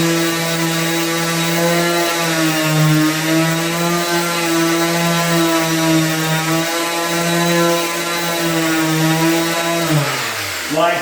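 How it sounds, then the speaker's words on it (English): Orbital sander with 80 grit sandpaper working a wooden drawer front, a loud steady buzzing whine that holds constant before winding down at the end, close up. "what I'm using here is 80 grit sandpaper in my orbital sander"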